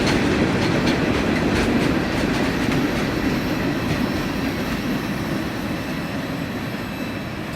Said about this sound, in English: That was train 37T that actually snuck up on me